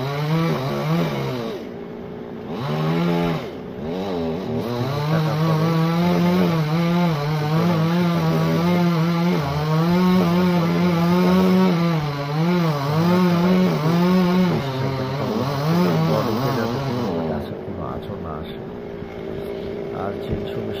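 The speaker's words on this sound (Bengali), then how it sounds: "আর চেনসু মেশিন কিন্তু অনেক জোরে জোরে ধাক্কা দেয়" Chainsaw cutting through a tree trunk, its engine revving loud and close in a sustained buzzing whine that rises and falls steadily for most of the stretch before easing off near the end.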